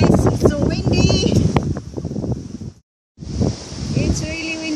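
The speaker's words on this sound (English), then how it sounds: "It's really windy guys, and I don't know how I can continue this." Strong wind buffets the microphone in a park, roaring gusts that cut out briefly and return, mixed with people talking.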